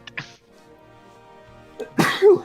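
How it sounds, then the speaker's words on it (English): A single sharp sneeze bursts out near the end of a quiet stretch, close to the microphone during an online Pirate101 tabletop role-playing session, with a faint earlier breath or click. "I was gonna say it and then I sneezed"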